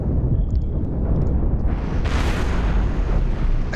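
Missile explosions in the space ship game Cosmoteer: a steady loud rumbling roar with a bright burst of blast noise swelling around the middle, heard without talk.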